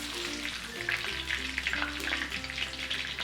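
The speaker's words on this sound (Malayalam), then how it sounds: "ഇതിവിടെ ഫ്രൈ ആയി വന്നിട്ടുണ്ട്" Chicken pieces deep-frying in hot oil, heard as a steady, dense, close bubbling sizzle that stays loud throughout, with no talking.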